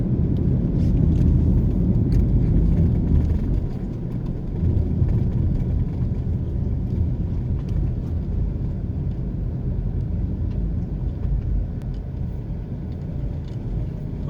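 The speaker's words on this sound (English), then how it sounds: "Just taking a quick drive to Caribbean Estate side." A car drives along Bernard Lodge main road toward Caribbean Estates, Portmore, St. Catherine, giving a steady close rumble of engine and tyre noise that eases slightly after a few seconds, with no talk.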